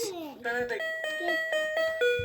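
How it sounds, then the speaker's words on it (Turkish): An electronic toy robot's doorbell sound plays a run of bright, tinny chime tones, each note repeating in a quick steady rhythm, close and clear. "zil sesi varmış"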